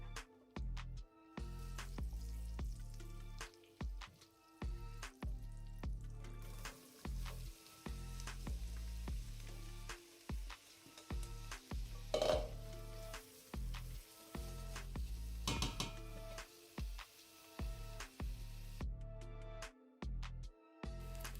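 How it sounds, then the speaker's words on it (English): Onions sweat in oil and butter in a pan over medium heat, giving a steady sizzle and frying crackle that runs throughout with brief gaps and occasional louder spits. "We put some oil and butter in the pan, and on medium hot heat we're gonna sweat our onions."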